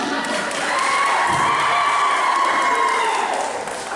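Sustained applause and cheering from a church congregation during an Easter service, loud and steady throughout with some crowd noise, easing slightly at the end.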